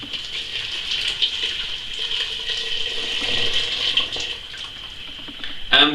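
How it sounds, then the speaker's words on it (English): Freshly boiled kettle water pours onto apple pulp for a leftover-fruit wine, a steady splashing trickle that swells and eases, fairly close, ending in a brief sharper clatter. "I'm going to add some water. Now I've boiled the kettle, and that's what I'm going to add in."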